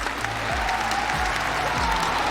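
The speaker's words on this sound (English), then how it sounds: "you can hear the crowd here" At a Pro League Season 10 finals esports arena, a large crowd fills the space with dense, sustained applause and cheering, loud and unbroken through the moment, with a commentator's voice faintly underneath.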